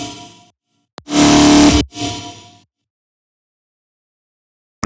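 A heavily distorted synth bass with amp and post-processing effects blares in loud, thick bursts, one short stab followed by a longer sustained roar and a fading tail, then silence.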